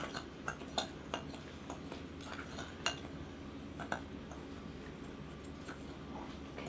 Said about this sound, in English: I'm going to mix that up.